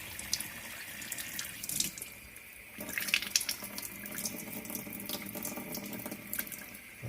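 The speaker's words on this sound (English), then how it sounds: "Let's get the hose pipe on it a little bit. Just run the hose through it" Water from a hose pipe runs steadily to flush bits of shale from the radiators of a Baxi heating system, a soft, continuous splashing rush at moderate distance, with no talking.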